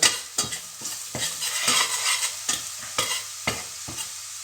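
Coriander, garam masala, turmeric and chili spices sizzle in a pan, with a spoon stirring in repeated sharp scrapes and taps against the metal every half second or so, close up and alone.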